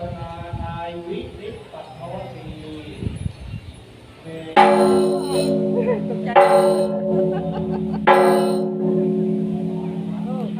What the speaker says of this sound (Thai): นี่คือระฆังยักษ์